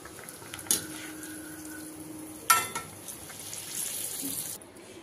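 A burger patty sizzles in a frying pan with a steady soft hiss, broken by two sharp clatters and some stirring or scraping noises, with no voices.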